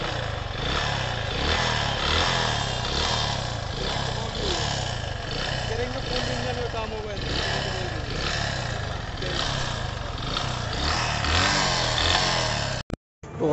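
A broken motorcycle engine is started and kept running, a loud rough clattering drone under nearby talk, cutting out abruptly near the end.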